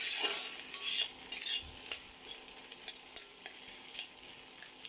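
Potatoes salted but otherwise unspiced fry in a pan with a steady sizzle while a utensil stirs and scrapes them at irregular intervals, close and moderately loud, with no talking.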